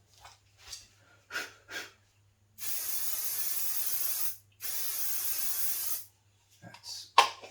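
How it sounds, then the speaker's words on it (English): An aerosol spray can hissing over a pastel drawing of a reclining figure in two steady bursts of about two seconds each, close and alone, framed by soft breathing and small handling noises. "Spray."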